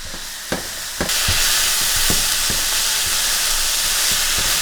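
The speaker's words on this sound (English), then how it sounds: "Now you just take this and stir it all together." Shrimp and riced vegetables stir-fried in a pan, a steady loud sizzle after a few sharp scrapes of the utensil, with periodic stirring knocks breaking through the hiss; nobody speaks.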